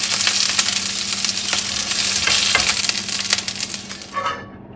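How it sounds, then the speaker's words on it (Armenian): Food fries in a hot pan with oil, a loud, steady, close sizzle crackling continuously before it drops away abruptly at the very end. "ևս մեկ-երկու րոպե կտապակեմ եւ դուրս կբերեմ այս չափաբաժինը"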